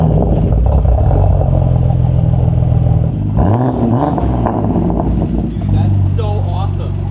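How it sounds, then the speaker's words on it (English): Exhaust of a BMW G80 M3 with muffler and resonator and hybrid turbos drones loud and deep, swelling into a rev partway through, with a voice talking over part of it. "It is one of the best sounding exhausts I have ever heard for the G80 M3."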